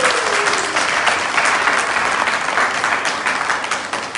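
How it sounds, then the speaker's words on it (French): An audience at a political gathering in Milan applauds M. Diaby with steady, dense clapping that holds at full strength for the whole stretch, close and loud, with no voices standing out above it. "Je voudrais que vous l'acclamiez ici."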